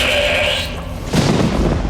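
A black sheep bleats before a ritual slaughter: a drawn-out wavering bleat up close, followed by a heavy low thump and rumbling noise.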